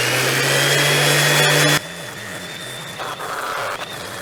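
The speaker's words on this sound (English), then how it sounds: "clean up these edges and the surface with some 150 grit. That's already on my sander" A power sander with 150-grit paper smoothing wooden edges runs with a loud steady whine, then cuts off abruptly and winds down, leaving quieter handling noise.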